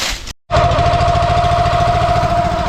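A Dirty Hand Tools 22 ton log splitter's small engine runs loud and close after a short silent gap, a rapid, steady pounding chug with a strong constant hum.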